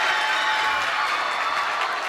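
Basketball fans clap and cheer from the stands at a boys high school game, a steady, dense wash of applause that fills the gym throughout without any clear talk.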